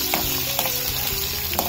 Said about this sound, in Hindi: उसके बाद थोड़ा सा एक मिनट के लिए फ्राई करना है